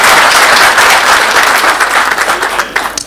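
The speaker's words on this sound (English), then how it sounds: "Let's clap hands for her." Crowd applause at an evangelical church gathering: many hands clapping in a loud, continuous wash that thins into a few scattered claps near the end.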